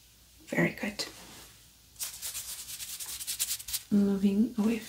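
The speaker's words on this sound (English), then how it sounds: "tell me if you hear the sound that I'm making with my hands moving further away from you, getting quieter, or getting louder" Hands rubbing together in a dry, swishing rhythm, close and fairly loud, shifting in level as they move toward and away from the listener, with a voice talking before and after.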